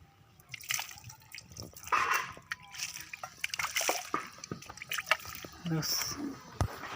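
Water splashes and trickles over surfaces being scrubbed clean of stains with Harpic, in short uneven bursts, close by, mixed with a person talking throughout.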